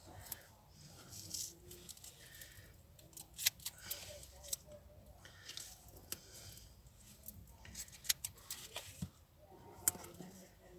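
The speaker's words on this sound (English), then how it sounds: "Let's just cut this a bit smaller down here." Scissors snipping paper pieces smaller while making a handmade card, a string of quiet, irregular clicks and cuts at close range with faint handling noise between them.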